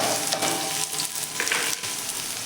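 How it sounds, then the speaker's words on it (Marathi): Chopped onion sizzles loudly in hot oil in a kadai, a steady close crackle broken by brief stirring scrapes, with no talking. "कांदा छान असा आपण तेलावरती परतून घेऊया"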